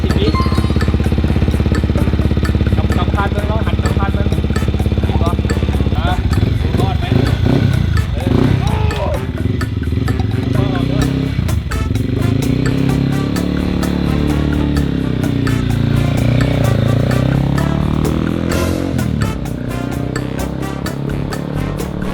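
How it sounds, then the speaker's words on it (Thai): Big bike motorcycle engine idling while it warms up, a loud, steady rumbling throb close by that holds throughout, with its pitch wavering slightly and people talking over it. "เดี๋ยวรอให้เครื่องมันอุ่นเครื่องก่อน"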